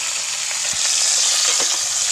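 Shrimp frying with garlic in a pan, a bright, dense sizzle held close and loud while a couple of soft stirring scrapes come through, with no voices.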